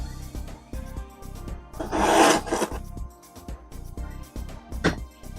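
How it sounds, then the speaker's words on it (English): A trusty saber tooth box cutter slicing open a sealed 1992 Future Trends '76 Canada Cup hockey card box, with a close, loud scraping and rasping cut in the middle among quieter rubbing and handling sounds. "so it's time to open this box."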